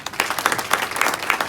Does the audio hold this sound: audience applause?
yes